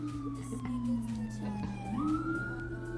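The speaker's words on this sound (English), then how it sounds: "Yep, sirens." Wailing emergency siren sweeping up and down in pitch, loud and continuous over a low steady drone, with a brief voice murmur in the background.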